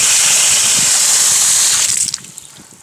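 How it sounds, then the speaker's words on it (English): Tap water gushes steadily from a faucet into a container for a water purifier, loud and continuous, then cuts off abruptly near the end, leaving faint drips. "So I'm going to fill it up with water from the faucet."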